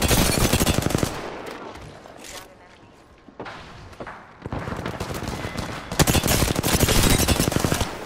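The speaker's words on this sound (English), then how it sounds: "There's four people shooting at me though" Dense, loud automatic gunfire in Apex Legends, several players firing rapid bursts, a brief lull with scattered shots, then heavy sustained fire again; no talk.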